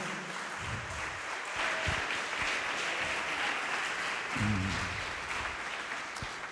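A church congregation applauds, a dense continuous wash of clapping at moderate distance, with a few brief voices rising through it.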